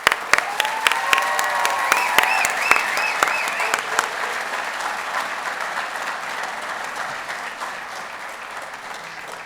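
An audience applauds at a Howard County firefighter trainee class graduation ceremony: dense, steady clapping from a large crowd fills the whole stretch, with sharper claps standing out at the start before it settles into an even roar.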